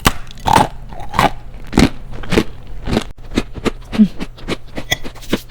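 Loud, close crunching bites and chewing of a hard, crisp, flat vegan cookie studded with brown rice, pistachio and flower petals, with sharp crackly crunches repeating irregularly and no talking.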